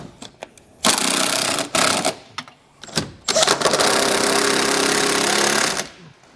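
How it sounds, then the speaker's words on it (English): A power impact wrench tightening body bushing bolts on a 2006 Jeep TJ, loud close rattling hammering in short bursts followed by a longer sustained run, with quiet gaps between. "Now I'm using an impact"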